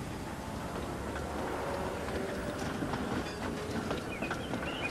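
A train in the Trainz simulator game rumbles steadily along the rails with a low continuous roar and faint rhythmic clicking, no voices present.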